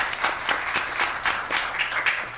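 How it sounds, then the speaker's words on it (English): Scattered applause breaks out from the audience at a city council meeting. The clapping is moderately loud and even, with a few people heard clapping at a steady rate throughout. "can we give her a round of applause for doing that?"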